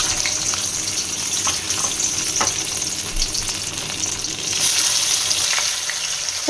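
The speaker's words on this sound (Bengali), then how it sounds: "তো মাছটা দিয়ে দিলাম, মাছটা আগে ভেজে নেব" Fish frying in mustard oil in a wok, a steady close crackling sizzle throughout with occasional sharper pops, no talk.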